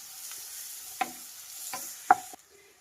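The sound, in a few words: onions and cumin frying and being stirred in a pan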